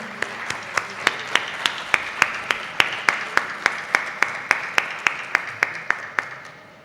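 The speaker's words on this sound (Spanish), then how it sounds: "Le proporcionamos un fuerte aplauso a la doctora," An audience at an ophthalmologists' college session in Jalisco gives a doctor steady rhythmic applause, sharp claps falling in an even beat of roughly three per second throughout, over a soft bed of scattered clapping.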